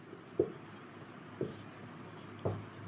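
Writing on a board in a maths class, three short distinct strokes about a second apart, fairly faint in a quiet room.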